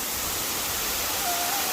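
A Sicilian waterfall produces a dense, constant roar of falling water that fills the scene evenly with no break.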